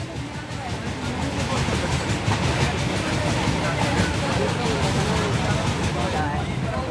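Inside a packed Indian passenger train compartment, a steady loud rumble and rattle of the moving carriage runs without a break, mixed with a dense murmur of many voices from the crowd.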